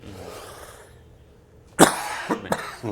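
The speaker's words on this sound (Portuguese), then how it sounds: "dá essa tossida rápida" A single quick cough bursts out after a soft stretch of background noise, followed by a couple of smaller throaty coughs.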